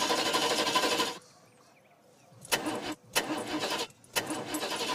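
A car engine cranks and fails to catch: a long grinding starter whir, a pause, then three short sputtering bursts of cranking, close and loud, with no voices.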